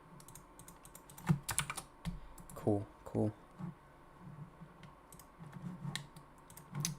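Computer keyboard keys clack in quick, irregular bursts of typing, close and moderately loud, with a person speaking briefly over the clicks.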